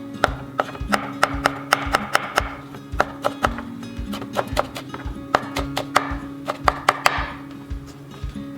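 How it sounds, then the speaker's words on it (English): A kitchen knife mincing basil leaves on a cutting board taps out rapid, sharp, close chops in an irregular steady rhythm, with a low background hum underneath. "next, we will mince basil"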